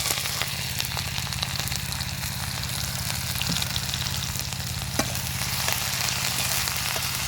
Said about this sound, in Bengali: পেঁয়াজটা খুব সুন্দর করে ভাজা ভাজা করে নেব